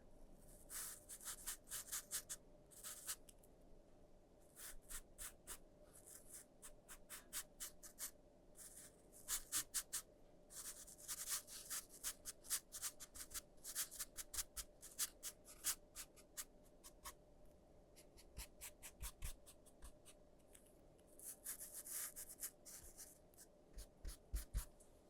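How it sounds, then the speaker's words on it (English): A paintbrush lays watercolour onto paper while a robin's feathers are painted in burnt umber, making soft, faint swishes and scratchy strokes in quick clusters, very close and quiet. "I'll just gently brush that in, moving my brush strokes in the direction of the feather groups."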